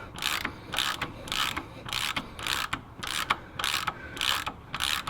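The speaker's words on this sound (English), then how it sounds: "I couldn't find a spanner of the appropriate size, so I got my ratchet" A hand ratchet turning a bolt on a Land Cruiser 1HZ diesel engine during a timing belt change, about ten rhythmic, close, crisp clicking strokes in quick succession.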